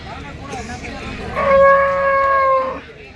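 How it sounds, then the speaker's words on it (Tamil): Cattle at the Karunkalpalayam cow market give one loud, drawn-out moo lasting over a second, standing out close above the low murmur of the crowded market. "மாடு இன்னைக்கு அதிகம்."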